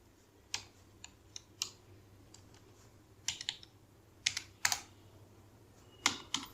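Typing JavaScript code on a computer keyboard: sparse, quiet clicks and clustered keystrokes in irregular bursts, close by, with no voice.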